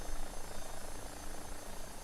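Engine and rotor of an AW-109 helicopter in the X-Plane 12 flight simulator, a steady turbine whine over a low throbbing rotor hum, constant and fairly close, with no talking.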